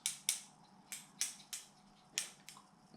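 A pair of scissors being handled and tested, giving about eight sharp, crisp snips and clicks in an irregular rhythm, close and fairly quiet with no talking.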